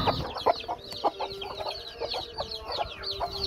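Newly hatched chicks peep in quick, high, repeated chirps, close and fairly loud, with a low background hum and a few soft knocks as they are handled one by one for vaccination.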